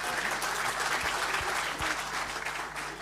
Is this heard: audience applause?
yes